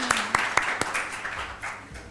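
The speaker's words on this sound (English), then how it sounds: "Big applause for her, please." An audience at an information security and privacy panel gives brief applause. A handful of crisp claps ring out first, then blend into a softer, thinning patter that fades within a couple of seconds.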